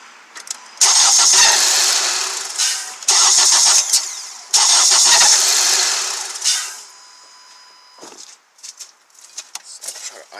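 A 2014 Honda CR-V engine cranks and revs in three loud bursts, then settles to a quieter rough idle with faint rattles, checking for serpentine belt noise.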